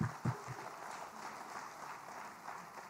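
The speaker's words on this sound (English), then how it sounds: "Another round of applause for all the presenters." An audience at a church youth engagement gathering applauds presenters, with a soft, steady wash of clapping that sounds fairly distant and stays even for the whole stretch.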